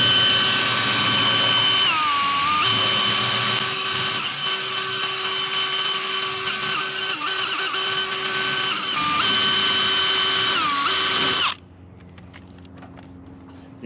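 A power drill bores through a bathtub wall surround panel backed by a piece of wood, whining loudly and steadily with small pitch dips for about eleven seconds before stopping.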